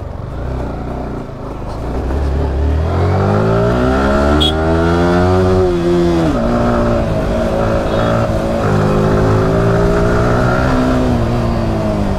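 A motorcycle engine climbs a mountain road near Naina Devi temple, rising through gears with a loud, close, steady drone that swells in pitch and holds for several seconds.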